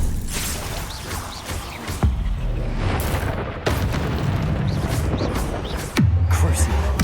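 Bombarda explosion spells cast in Hogwarts Legacy, several deep booming blasts in quick succession over continuous game rumble, with a voice talking in the background.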